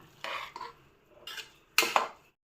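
A spoon scrapes and clinks against a metal pressure cooker in three short bursts while mixing greens pulao, close and fairly loud, with no voices.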